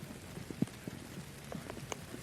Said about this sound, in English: the rain coming down across Lake Nona